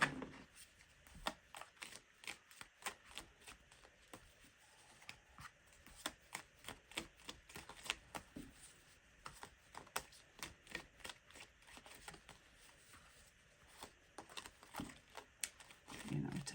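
Tarot cards being shuffled give a quiet, steady stream of rapid papery clicks and riffles that runs throughout, with faint speech in the background.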